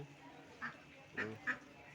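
Three short duck quacks at about half-second spacing on a duck and goat farm, fairly close and distinct over a quiet outdoor background.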